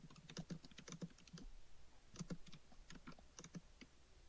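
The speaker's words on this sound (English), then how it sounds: "typing in the background" Computer keyboard typing in the background during a tabletop game session, with bursts of quick, irregular key clicks in two clusters separated by a short pause, moderately faint and close.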